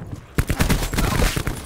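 Cluster grenades going off in Call of Duty: Black Ops 4, a rapid chain of loud, close blasts rattling one after another in a dense burst with no pause.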